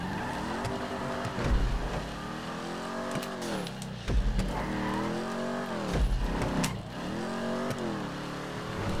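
Car in a GTA 5 Online race, with an engine revving in repeated rising and falling sweeps and tires squealing and skidding, loud and close, and a brief low thud.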